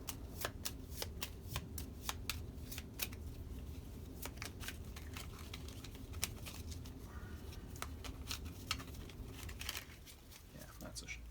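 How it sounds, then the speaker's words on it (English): Playing cards riffle-shuffled repeatedly during a solo game of Onirim, crisp rapid flutters and snaps close by, with brief pauses between passes. "that's a shuffle right there"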